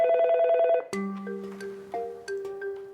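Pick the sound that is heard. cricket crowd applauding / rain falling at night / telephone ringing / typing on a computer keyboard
telephone ringing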